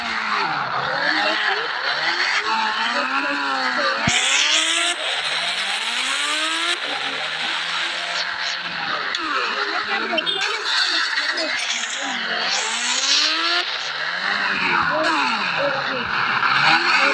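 Motorbike engines from the Indian Bike video game rev and whine with rising and falling pitch, mixed with tyre squeals, loud and continuous throughout.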